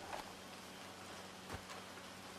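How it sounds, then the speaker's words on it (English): Steady rain in Red Dead Redemption 2, a soft even hiss of falling drops with a faint thump or two, quiet and continuous throughout with no talk. "Okay, that rain's gonna be very annoying now."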